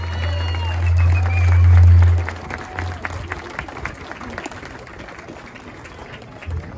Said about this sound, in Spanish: Otro aplauso más fuerte